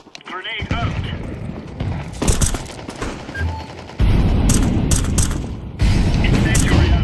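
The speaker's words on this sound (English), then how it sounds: "Throwing a grenade" Counter-Strike 2 gameplay with bursts of automatic gunfire and heavy booming grenade blasts. The rattling volleys and abrupt loud detonations come close and loud, and they mix with a voice speaking during the fight.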